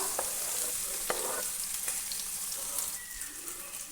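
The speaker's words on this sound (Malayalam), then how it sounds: "ഇനി ഇതിലേക്ക് നമ്മൾ ചെറുതായി അരിഞ്ഞു വെച്ചിരുന്ന പാവയ്ക്ക അല്ലെങ്കിൽ കയ്പയ്ക്ക കൂടെ ഒന്ന് ചേർത്ത് കൊടുക്കാം" Chopped bitter gourd sizzles softly in a hot pan, with a few brief scraping stirs over a steady, quiet frying hiss.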